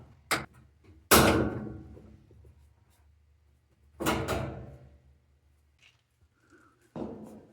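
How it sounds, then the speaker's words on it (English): A flathead screwdriver pries open the top lid of a washing machine, producing a few sharp plastic clicks and pops, with louder scraping snaps near the start and middle and a final clack, separated by quiet gaps. "use a flathead screwdriver and pop that top lid open"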